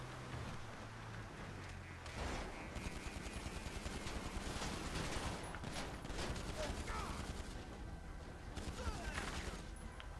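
Dense burst of gunfire from a sniper in the GTA 5 video game, crackling shots layered thickly over a busy game soundscape with a person talking over it, loud and continuous throughout.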